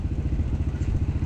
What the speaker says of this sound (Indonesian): Ini ada motor di sini jadi agak berisik vlog saya.